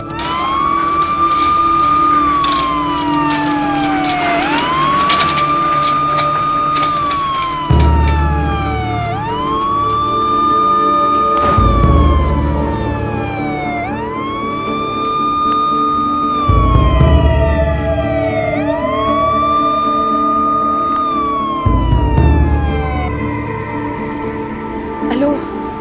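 A police car siren wails in a repeating rising-and-falling cycle, loud and close, with a low vehicle rumble and occasional thuds beneath and people talking over it.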